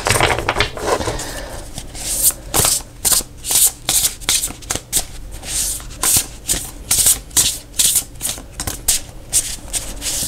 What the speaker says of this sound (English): he says as he drops the cards again and again